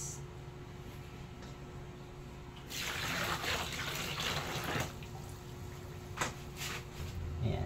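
Water poured into bun dough ingredients (flour, lard, vanilla) in a kitchen, a rushing splashing pour starting partway in after quiet handling, continuing unevenly with a couple of sharp knocks near the end.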